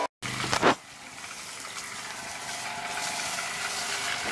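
Water is forced by air pressure out of a hot water tank through a hose while a summer home is winterized, a steady broadband gushing rush that starts after a brief bump and keeps going strong and close.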